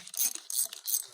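A ratchet clicks in several quick close bursts while loosening a fitting on a 2015 Chevy Tahoe LT transmission hose line with a 6L80 gearbox, sharp metallic pawl ticks with brief gaps between strokes, no voices.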